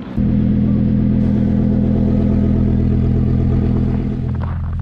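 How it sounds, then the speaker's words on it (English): Lamborghini supercar driving on frozen lake ice in Canada, a loud, close engine roar with a steady rumbling drone that holds throughout and eases slightly near the end. "A car will drive by and you'll hear the ice go."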